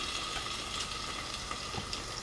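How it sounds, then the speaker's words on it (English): An egg fries in a cast iron frying pan for a breakfast, giving a steady, close sizzle with faint crackles and no talking. "Now I usually make a good fried egg in my cast iron frying pan."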